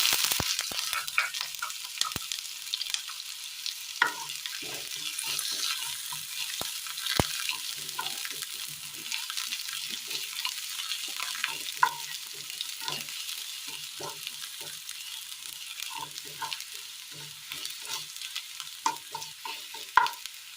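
Chopped shallots frying in hot oil with mustard seeds for a Kerala-style curry, making a continuous bright sizzle with many small pops and crackles under a quiet kitchen background.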